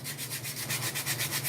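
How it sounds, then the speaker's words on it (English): Sandpaper is rubbed lightly back and forth over a flat surface to smooth a 3D bubble effect piece. The close, soft, rasping strokes repeat evenly and continuously. "I just take my sandpaper and I just sand it"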